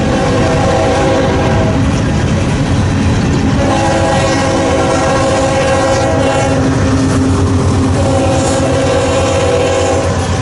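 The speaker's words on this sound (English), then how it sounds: "And this train's going into Omaha." A loud freight train rumbles past nearby in Nebraska with rhythmic wheel clatter, its horn blaring in long sustained blasts over the heavy rolling noise.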